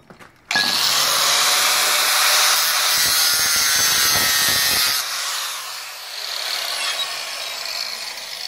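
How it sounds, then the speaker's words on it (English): An angle grinder with a cutting disc slicing through spring wire on a homemade spring-making machine, a loud high whine starting abruptly, then easing down and continuing more quietly. "Now he has to release by cutting the part that's in the hole with a disc or with a grinder."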